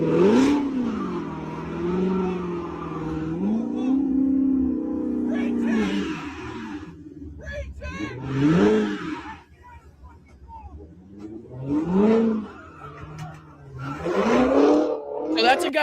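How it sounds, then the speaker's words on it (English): A car revs hard in aggression with its tires spinning: a long, wavering engine drone, then three sharp rising revs in quick bursts, close and loud. "So that's a guy quite literally using his car as a weapon, right? Spinning his tires in aggression"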